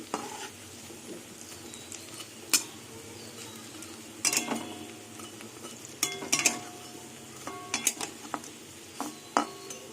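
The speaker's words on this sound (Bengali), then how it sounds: "বড়াগুলো সব এইভাবে উল্টে দেবো দেখুন বড়াগুলো ভাজা হয়ে গেছে" Malabar spinach and pea lentil fritters fry in a pan and are flipped, with a steady soft sizzle under sharp clinks and scrapes of a utensil against the pan, clustered near the end.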